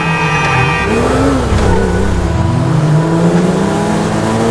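A car drives and accelerates in Grand Theft Auto V on PS5, its engine droning and revving steadily up and down around a city block with no talk over it.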